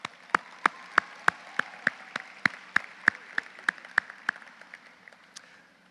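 Applause for partners of a Dallas ISD NAF graduation program, heard as a slow, evenly spaced run of about sixteen sharp, distinct claps that fade toward the end, with no talking.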